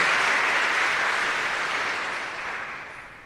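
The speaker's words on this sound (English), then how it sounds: "Give them a round of applause." Sustained applause from a school Veterans Day audience honoring guests, a dense steady wash of clapping that tapers slightly toward the end.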